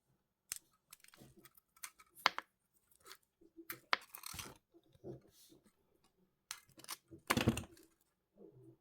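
Small snips of jewellery wire being cut with a hand cutter while finishing a wire-woven two-stone moon pendant, giving quiet, irregular close clicks and crisp cuts with faint handling noise between.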